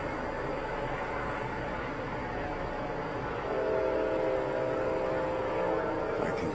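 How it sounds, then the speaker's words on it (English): A train rumbles steadily nearby, with a sustained horn-like tone rising partway through over the low mechanical noise. "So I think that's what we're hearing with the train."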